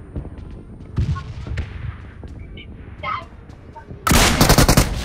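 Bursts of gunfire fired into the air in a shooting video game, a few scattered shots followed by a loud, sustained rapid volley at the end, with a voice talking between shots.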